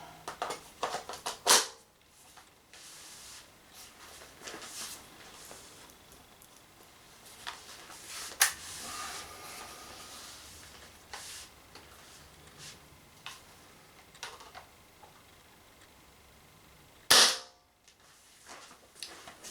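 Umarex TC68 CO2 air gun running cold on a 2x12 gram CO2 adapter, firing a few sharp isolated shots spaced seconds apart, the loudest near the end, over a low background.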